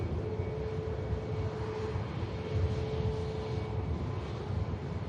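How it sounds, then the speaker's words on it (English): A Lufthansa A320neo airliner at Manchester Airport gives a steady, moderately distant engine roar that holds level throughout, with a faint sustained whine running over the broad rumble. "Here goes the Lufthansa Neo."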